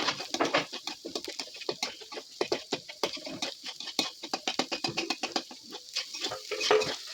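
Egg is fried and stirred in a pan for vegetable chowmein. Utensils clatter and scrape against the pan in a rapid, irregular rhythm throughout, with a faint sizzle beneath.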